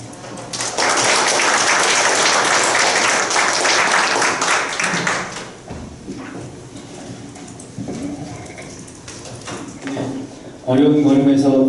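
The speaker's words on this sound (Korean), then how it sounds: "다시 한번 큰 박수 부탁드립니다" An audience at a memorial ceremony gives a sustained round of applause, a dense, loud clapping that tapers off after several seconds, followed by an announcer speaking over a microphone.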